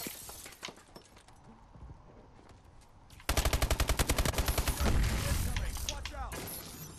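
Gunfire in Call of Duty: Advanced Warfare during a hardpoint match: after quieter game sounds and distant shots, a loud rapid automatic burst of evenly spaced shots starts and leads into continuous heavy firing and noise.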